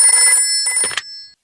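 A cartoon telephone rings loudly and close up in Peppa Pig, a bright electronic ring that lasts over a second before cutting off abruptly.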